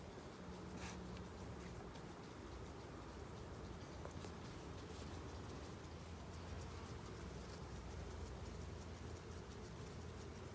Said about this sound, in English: Lots of bees on the bottom of that.